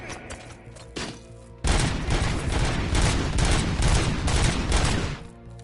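Robocop's leg gun in Robocop: Rogue City blasts a loud, dense stream of rapid automatic fire. A few separate shots come first, then a sustained barrage hammers on close for several seconds before it stops.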